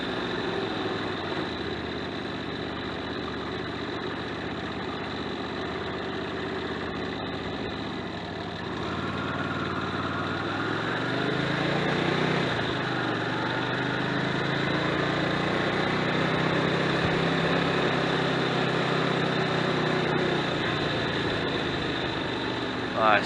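A motorbike engine idles steadily, a continuous low rumble that rises slightly partway through and then holds, loud and close, with no talking over it.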